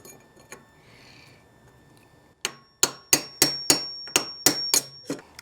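A hammer taps out the bottom bearing race of a motorcycle fork on a VFR/CBR hybrid sport bike: about nine sharp, ringing metallic strikes in a steady rhythm, close and loud, after a quiet stretch.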